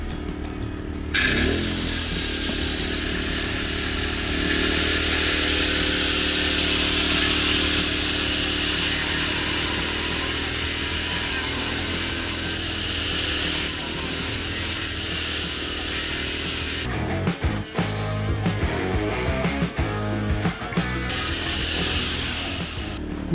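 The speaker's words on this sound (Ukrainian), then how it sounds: "Ну, як бачите, тепер повноцінно ріже метал" Power tool running at about 8,000 rpm off a Dnipro-M petrol generator cuts into metal with a loud, harsh, sustained grinding whine that turns rougher and more uneven toward the end, with no talking.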